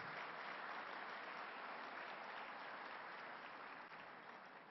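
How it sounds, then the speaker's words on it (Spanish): An audience applauds trainers at an educational leadership talk, a uniform, continuous roar of clapping heard from a distance and slightly muffled, steady throughout. "Un aplauso para los formadores."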